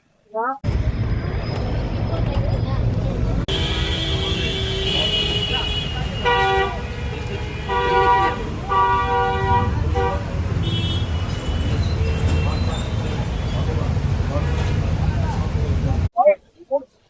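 Busy road traffic near Dum Dum Junction in Kolkata makes a constant loud roar of passing vehicles. Several car horns toot in short bursts during the middle stretch, and people talk over the din.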